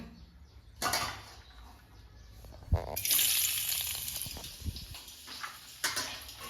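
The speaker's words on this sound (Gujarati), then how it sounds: "તો હવે ફટાફટ આપણે છે ને મેથીનો વઘાર મારી દઈએ" Fenugreek leaves tempered in hot oil in a village kitchen give off a soft sizzle that swells in bursts, with a brief clatter partway through, all fairly quiet and with no voices.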